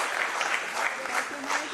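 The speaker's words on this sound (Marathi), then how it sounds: "ह्याच्यावर पण टाळ्या वाजवल्या पाहिजेत" An audience applauds, a dense, steady patter of many hands clapping together at moderate volume, with a voice heard faintly underneath.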